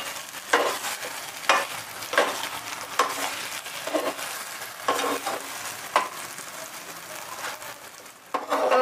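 Wheat porridge (lapshi) with jaggery is stirred and sautéed in a pan, giving a soft sizzle under repeated scraping strokes of a spoon about once a second, close and alone without talk.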